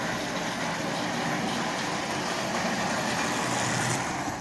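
A Marx toy train motor runs forward with a steady, close-up electric whir and hum, unbroken throughout.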